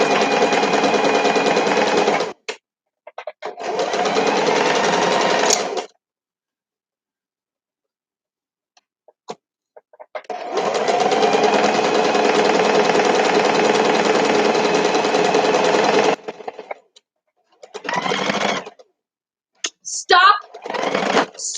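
A sewing machine stitches fabric for a stuffed pillow in long steady whirring runs broken by pauses, with short bursts near the end.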